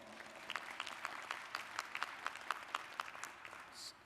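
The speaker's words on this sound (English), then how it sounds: "Let's give her another round of applause." Faint, fairly sparse applause from a convention audience at the NAACP annual convention, with individual claps standing out in a loose, even rhythm across a few seconds.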